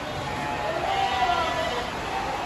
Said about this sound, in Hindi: ये देखो बकरा देखो